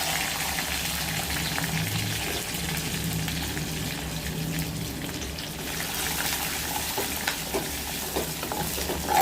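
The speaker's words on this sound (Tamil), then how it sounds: "நல்லா பூண்டு நல்லா வதங்கி வரணும்" Garlic sautéing in a pan for a bitter gourd and garlic curry, a continuous close sizzle with faint stirring scrapes throughout, no voices.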